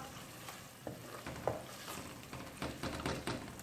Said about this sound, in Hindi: इनको मैं इस तरह से थोड़ा थोड़ा सा मैश कर लूँगी चम्मच के साथ